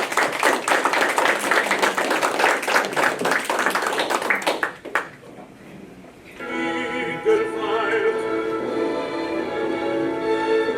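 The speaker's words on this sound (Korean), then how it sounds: "우선 그 명강에 대해서 박수를 한번 보내죠." An audience applauds after a lecture with dense, close clapping for about five seconds. The clapping stops abruptly, and then music plays.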